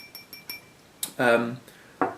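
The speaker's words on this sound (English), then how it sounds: "it is actually a votive holder, a glass jar." A glass votive-holder jar from a candle set is handled, giving a few light clinks and taps, then a louder rattle and a final knock, close by with no talk.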